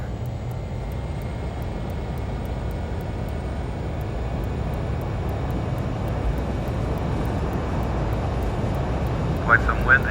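Learjet 35A jet engines in Microsoft Flight Simulator spool up into a steady, even roar with a low rumble and faint high whine, holding constant throughout, with a couple of small clicks near the end.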